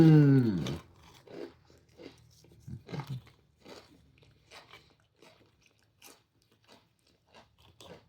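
Crunchmaster crackers being crunched and chewed close up, a loud bite at the start followed by a steady run of softer crunches and chewing sounds, with no talking.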